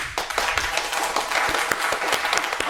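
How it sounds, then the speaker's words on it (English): An audience applauding a guest, brisk close clapping with distinct individual hand claps over a steady wash of applause. "So let's give a round of applause for Victor"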